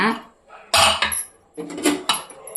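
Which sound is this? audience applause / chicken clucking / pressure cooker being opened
pressure cooker being opened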